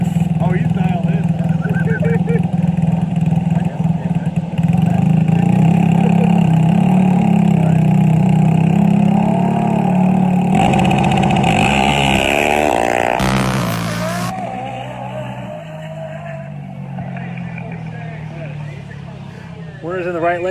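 A drag racing buggy engine idles loudly at the start line of an ATV drag race in Dome Valley, Arizona, a steady droning rumble that rises and shifts, with a commentator talking over it.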